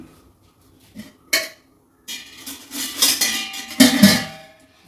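Metal pots and vessels, including a tea pot and a pressure cooker, clatter and clink as they are handled, a few sharp knocks followed by a longer burst of jangling.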